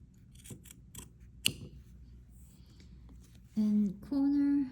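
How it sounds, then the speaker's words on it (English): Scissors snip fabric close to the stitches of a shirt collar, a few quiet crisp cuts early on, followed by a voice talking. "You don't cut through the stitches, so I will just go very close."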